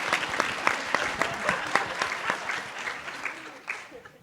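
A small conference audience claps steadily for several seconds, a moderate, fairly close patter of hands that thins out toward the end.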